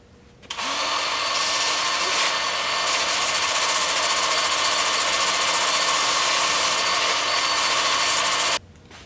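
Sanding a turned butternut wood bowl at a workbench gives a loud, even whirring hiss that starts abruptly, runs steadily for about eight seconds, then cuts off.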